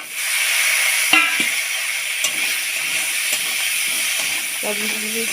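Spices and cut yardlong beans stirred in a hot pan, a steady hiss and sizzle throughout with a few scraping clinks of the spoon; a voice speaks briefly near the start.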